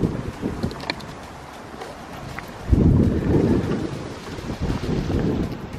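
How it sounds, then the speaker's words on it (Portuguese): Strong outdoor wind gusting and rumbling against the microphone beside a parked car, a loud wash of noise that surges strongly partway through and then settles. "Isto está uma grande ventania."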